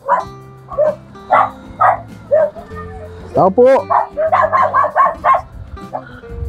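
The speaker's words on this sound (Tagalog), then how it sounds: "Ay, may aso." A dog barks and yips repeatedly nearby in short bursts, with a whimpering whine in the middle, while a person talks over it.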